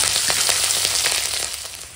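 Whole cumin, slit green chilli and bay leaf hit hot oil left from frying fish, giving a loud, dense, steady sizzle with crackling pops close up that eases slightly toward the end.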